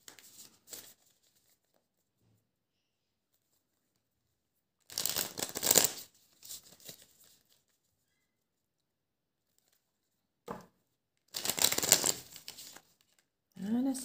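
Oracle photo cards being shuffled by hand, two short papery riffling bursts separated by long quiet gaps, close but soft, with a few faint rustles in between.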